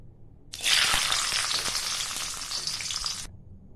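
Raisins dropped into hot ghee burst into a loud, dense sizzle that starts abruptly, crackles steadily for about three seconds, then cuts off, heard up close with no talking.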